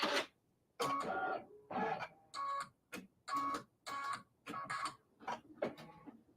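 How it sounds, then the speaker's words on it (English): A computerized home embroidery machine stitching a bow design on a wall hanging, running in close, loud bursts of rapid needle chatter broken by short pauses, with no talking. "It's stitching the bow."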